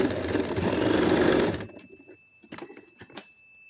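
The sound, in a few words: sewing machine stitching a lehenga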